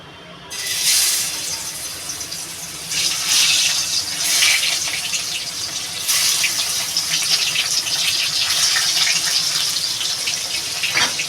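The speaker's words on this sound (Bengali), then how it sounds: "তেলটা গরম হয়ে গেছে মাছগুলোকে দিয়ে দেবো" Pieces of fish hiss and sizzle loudly in hot oil in a home kitchen pan, a steady frying crackle that swells in waves and carries on alone.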